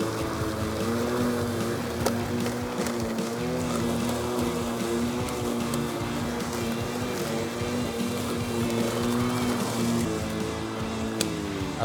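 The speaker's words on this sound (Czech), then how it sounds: "Já to tady ještě doseču, tedy zamulčuju." A cordless battery lawn mower with a brushless motor and 40 cm cutting width mulches grass, giving off a loud, steady motor hum that runs unbroken throughout with no speech.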